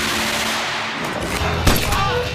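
Gunfire sound effect of the kind used alongside squibs simulating bullet hits in film: a dense, continuous rattle with one sharp louder shot standing out near the end, no talking.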